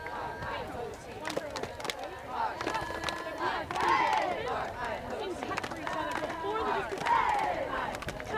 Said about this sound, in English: you hear all of the chanting and the clapping going on